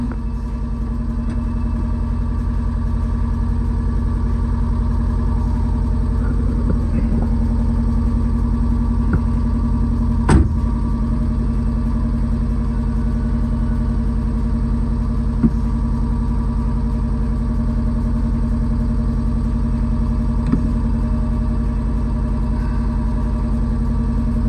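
A 1979 MG Midget 1500 engine runs steadily at a low, even idle-like drone throughout, close and constant, with a few faint clicks and knocks over the top.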